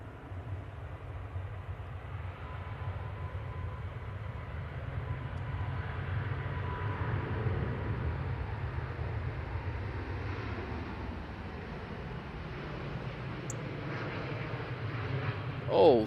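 An Airbus A350-900 airliner on its takeoff roll at Manchester Airport, heard as a steady, distant low roar of jet engines that holds evenly throughout with broadband rumble.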